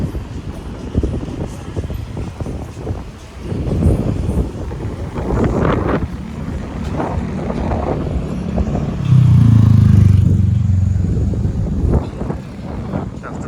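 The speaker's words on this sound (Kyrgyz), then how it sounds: "Шамал болот аябай" Strong wind gusting outdoors in Korea, a heavy rumbling buffet across the microphone that swells louder near the end, with faint voices in the background.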